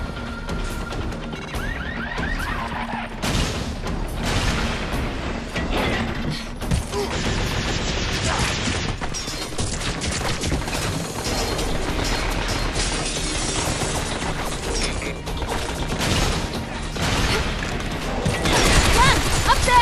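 Gunfire rattles through a Binary Domain battle, bursts of automatic shots, crashes and booms piling up loudly and almost without pause, with voices shouting in between.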